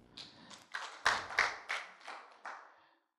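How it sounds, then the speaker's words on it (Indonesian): A congregation claps at a church sermon, giving about eight separate, fairly close hand claps in an uneven rhythm over a few seconds before it fades out. "Terima kasih Yosua, tepuk tangan."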